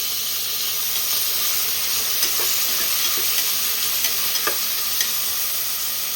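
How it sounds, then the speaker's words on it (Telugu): Tomato pieces fry in a pan for a Telugu goru chikkudu (cluster bean) curry, giving a steady, close broadband sizzle with a few faint clicks of stirring throughout, no voices. "ఇప్పుడు ఇందులోకి కట్ చేసి పెట్టుకున్న టమాటా ముక్కలు, వీటిని కూడా కాసేపు మగ్గనివ్వాలి."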